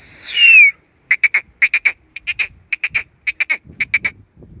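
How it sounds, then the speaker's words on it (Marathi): Two waterhens call from nearby: a brief rising whistle, then a long run of rapid, evenly spaced clucking notes in short bursts with tiny gaps, no other voices. "पान कोंबड्या आहे. 2 पान कोंबड्या."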